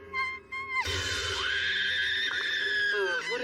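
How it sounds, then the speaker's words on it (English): A high, sustained scream like a cat's yowl, loud and close, rising sharply and holding steady for about two seconds, set within an English-dubbed anime scene. "I've heard this cat-like scream before."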